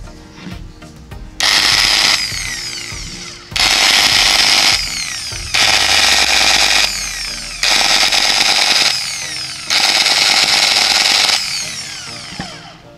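An electric hand grinder with a rough, overheating-prone running sound whines loudly in five separate bursts of about two seconds each, spinning up and winding down between, heard close with no talk.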